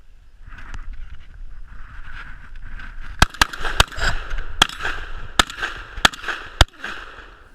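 A Mossberg 930 semi-automatic shotgun firing buckshot outdoors, with seven sharp, loud reports in an uneven quick sequence over steady background noise.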